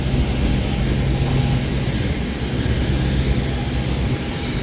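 Wings Air ATR 72-600 turboprop engines at Kupang give off a loud, unbroken drone close by, steady from start to end with no talking.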